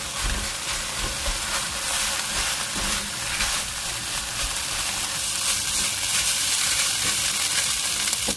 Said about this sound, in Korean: 밥 2공기를 넣고 중강불에서 같이 볶아주세요